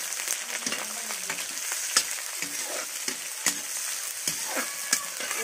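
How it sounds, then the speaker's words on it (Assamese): Onions, whole spices and green chillies fry in a pan and are stirred, a dense crackling sizzle with rhythmic scraping and clicking of a spoon against the metal, close and steady, without speech. "এইখিনি আমি ভালকৈ লৰাই দিম।"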